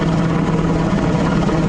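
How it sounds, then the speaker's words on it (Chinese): A Black Hawk and a tandem-rotor transport helicopter fly low over a city during a National Day flypast rehearsal, making a loud, steady, close rotor roar with a low droning throb. "黑鹰直升机及双旋翼的运输直升机低空飞过市区，震撼的螺旋桨拍打声让军事迷大饱眼福。"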